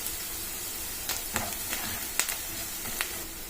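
Onions, curry leaves and garlic frying in a pan for a raw banana fry, a steady close hiss of oil with a few soft clicks of stirring, no talk.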